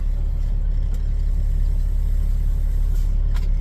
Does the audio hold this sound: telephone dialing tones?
no